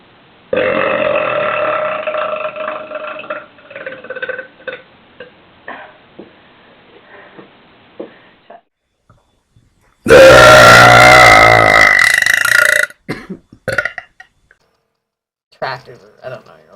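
A compilation of extremely loud, powerful burps: a long rumbling belch, then a second very loud one several seconds later, with short clicks and brief vocal bits between them.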